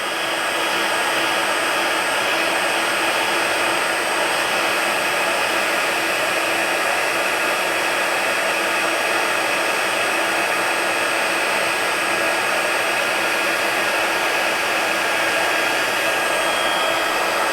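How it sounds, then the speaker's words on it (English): Heat gun blowing steadily while heating embossing powder for a papercraft project, a constant loud airy roar that holds unchanged from start to finish with no voices. "Before the heat gun get hot, it take a little bit, but then it's going to go quick."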